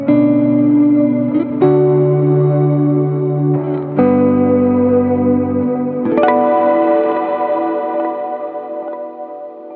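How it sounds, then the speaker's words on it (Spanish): Electric guitar chords run through a Strymon Big Sky reverb and a Timeline delay in parallel, several loud sustained strums each blooming into lush, echoing repeats and a long shimmering tail, with no talking. "el delay va a repetir más tiempo de lo que dura la reverberación"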